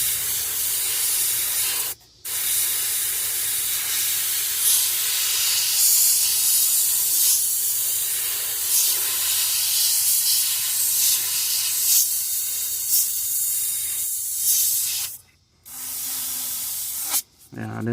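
Spray gun laying a largemouth bass pattern onto a fishing lure, a loud continuous hiss that cuts out briefly twice, with faint talk in the background.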